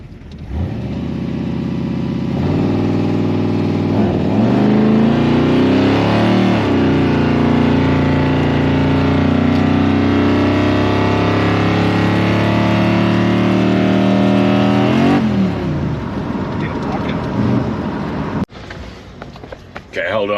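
A freshly built 383 stroker V8 in a bagged Squarebody truck revs hard and steadily for about fifteen seconds, loud and close, with pitch rising and falling through the pulls before dropping back to a rough idle, voices faintly underneath.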